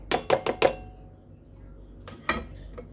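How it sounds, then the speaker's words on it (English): Soaked rice drops into an empty bowl, giving a quick cluster of four sharp clattering hits, then a quiet pause and two more softer knocks, close by. "Now with our empty bowl, put our rice"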